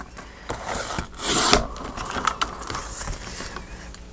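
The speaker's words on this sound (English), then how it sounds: "I'm going to trim it just a little bit at the base" Paper envelope journal page being trimmed at its base, giving close rasping and rubbing strokes with a louder swell near the middle and softer scraping taps afterward, with no voices.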